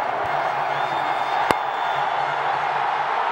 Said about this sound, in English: There's a loud cheer from the crowd